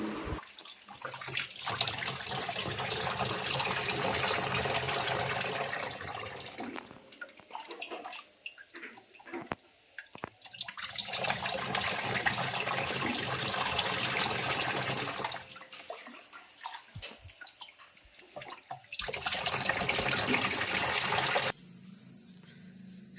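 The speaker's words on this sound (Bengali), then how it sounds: "জল ঢালা কমপ্লিট হয়ে গেছে" Water is poured into an air cooler's tank in long splashing streams, three sustained loud pours separated by quieter gaps with clunks and handling noise.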